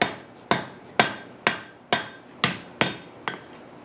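A hammer strikes hot steel on the edge of an anvil while forging a pintle hinge, eight sharp ringing blows at an even half-second pace, close and loud, each decaying quickly with no talk.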